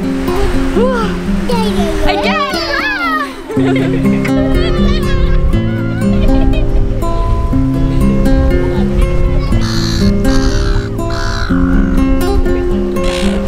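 Gulls squawk loudly in a burst of rising and falling cries early on, over a steady tonal background that continues throughout.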